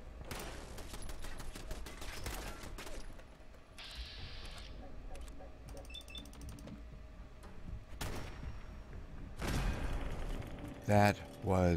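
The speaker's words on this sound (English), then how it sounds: "a ghoul fighting a turret." Automated turret fire rattles in rapid bursts during a fight with a ghoul in Fallout 4, sharp and close, with mechanical clicks and a voice speaking in between.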